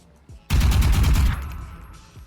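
A Vandal rifle fires a sudden, loud burst of rapid automatic shots in the game Valorant, then the report dies away quickly.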